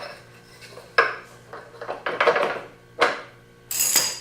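Greased motorcycle axle on a Kawasaki Versys 1000 being pushed through the wheel hub: a few sharp metallic clanks and scrapes, close and loud, spaced irregularly with brief quiet gaps between them.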